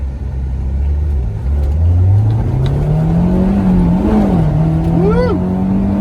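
A 2007 Honda S2000 AP2 revs hard under acceleration, its engine pitch climbing steadily and holding high with a brief dip near the middle, loud and close throughout.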